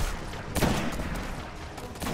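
Scout rifle fire in the video game Destiny, a few sharp shots with one louder burst near the middle, set against steady in-game background noise and effects.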